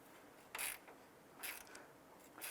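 A ratchet tightens the upper radiator hose clamp on a 2001-2005 Honda Civic, two quick bursts of close clicking half a second apart and a third starting at the end, quiet between.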